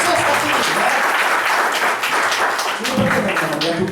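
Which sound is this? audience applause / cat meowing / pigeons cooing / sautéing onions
audience applause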